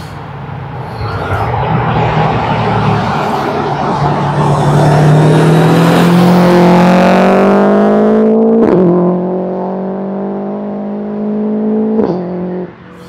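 A tuned Subaru Impreza making over 600 horsepower revs hard nearby, its engine note climbing steadily in pitch to a loud peak, then sharp pops and blips as it drops back toward idle, with no talking.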